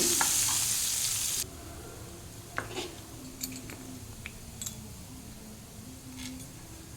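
Green chillies, curry leaves and a dry red chilli fry in oil over medium flame, starting with a loud burst of sizzling that drops to a gentle crackle, with occasional spoon taps and stirring.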